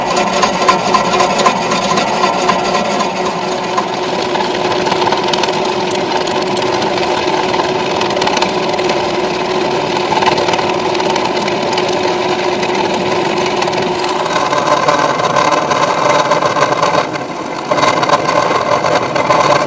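A milling machine cuts a part on a rotary table. It makes a steady, loud grinding and rasping hum that runs unbroken for about twenty seconds, with a brief dip near the end.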